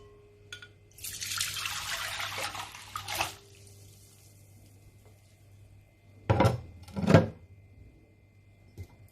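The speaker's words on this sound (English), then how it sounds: "So what you are going to do is to strain this." Fermented clove water is poured and strained, first as a splashing trickle lasting about two seconds, then two short separate pours later, against a quiet background hum.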